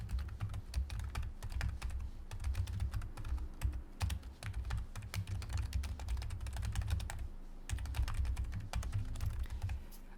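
Steady computer keyboard typing with repeated key presses, including Shift and Enter, clattering continuously and close up throughout, with no voices.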